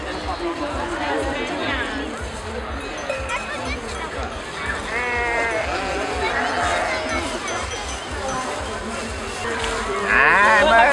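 Sheep flocks and livestock at a traditional Oaș sheep festival (Sâmbra Oilor) in Romania, bleating and calling continuously over a busy outdoor crowd with people talking throughout.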